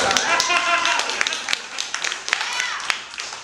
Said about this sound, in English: That's worth an applause break, I think.